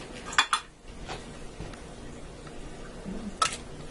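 Tomato paste from a 6-ounce can going into a pot of meat sauce for spaghetti, with a few close metallic clinks and scrapes of can and utensil against the pot, then quieter handling.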